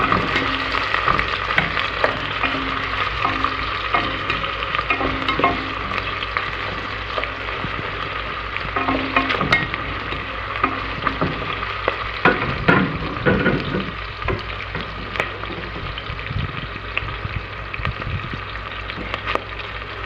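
Onions frying in hot oil in a pan, a steady close sizzle with repeated scraping and clacking strokes of a spoon stirring them, continuing throughout with no talking.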